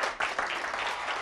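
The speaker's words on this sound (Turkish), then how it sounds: "Alkışlıyoruz." A studio audience at a Black Sea folk music TV show bursts into brief, dense applause, a short burst of clapping with no talk over it.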